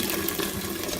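Tap water runs in a steady, loud, close rush as it fills an Instant Pot for macaroni and cheese, a continuous splashing stream with no talk.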